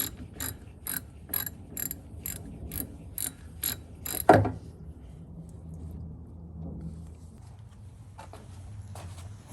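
An 80mm 15-flute cup wrench ratcheting on a fuel filter of an Avant 528 loader, close-up: a steady series of crisp clicking ratchet strokes, then a louder clunk as the filter breaks loose, followed by quieter handling.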